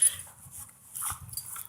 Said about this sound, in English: Puppies.